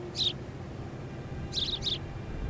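House sparrows chirp outdoors in a small town park in winter: one short chirp, then a quick pair of chirps, fairly faint over a low steady background hum.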